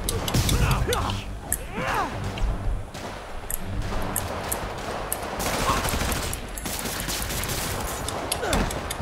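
Gunfire in the Spider-Man Remastered video game, bursts of rapid shots and thuds scattered across the scene alongside shouting voices and action effects.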